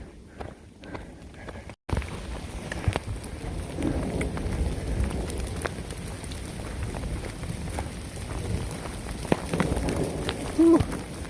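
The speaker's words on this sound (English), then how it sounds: "it's hailing now" Hailstorm with thunder at about 6,000 feet on the Pacific Crest Trail, a dense rattling patter of hail and rain striking close around, steady after a brief quieter start, with occasional sharper hits and low rumbles.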